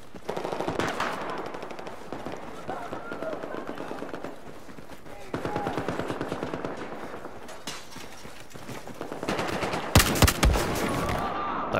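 Rapid automatic gunfire and scattered shots from a Battlefield 4 multiplayer match on the Dragon Valley map, loud and nearly continuous throughout, with a sharp burst of close, heavy fire near the end.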